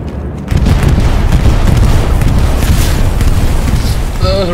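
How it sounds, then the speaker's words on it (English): Bombing run in the World War II game Hell Let Loose, a sudden roar of deep, rumbling explosions that stays loud and continuous with crackling blasts layered throughout. "Bombing run."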